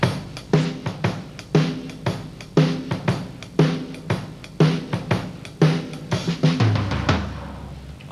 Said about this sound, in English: You're shuffling on the hi-hat, 2 and 4 on the snare drum, and a 1 and 3 in the kick drum